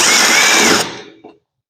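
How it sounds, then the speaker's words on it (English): A power drill bores a larger bit back through an existing hole in metal for a custom ladder rack, a loud steady whine for most of a second before the motor cuts off and spins down, with a brief clunk after. "So I'm taking a larger drill bit, just going right back through that hole."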